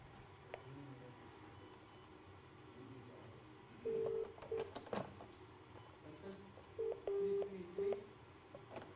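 Touch-tone telephone keypad tones dialing out to a base station, two short bursts of several quick beeps each, over a low hum of background noise.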